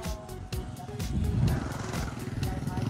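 Nog-Nog's motorcycle rumbles steadily, its engine growl building and holding close by, while metallic clinks and a few bangs ring out around it.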